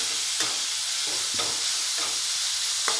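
Grated radish and soaked moong dal sauté in a pan, a steady hiss of frying broken by four or five soft spoon scrapes and knocks as the mix is stirred.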